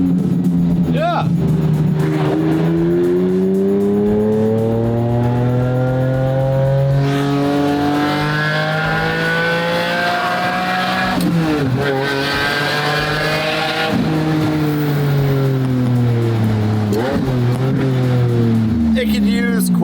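A car engine rumbles and revs loudly from close by, its exhaust burbling and popping as the pitch climbs and falls repeatedly, with talk mixed in.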